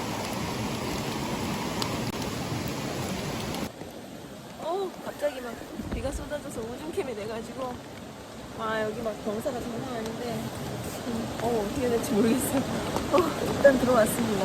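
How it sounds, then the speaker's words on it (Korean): Heavy rain pours down in a remote mountain valley in Gangwon-do, a steady loud hiss that continues throughout while people talk nearby. "비가 엄청 와."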